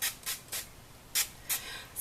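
Makeup setting spray misted from a pump bottle: five short, sharp hissing spritzes in an uneven rhythm, close and fairly quiet, with no talking.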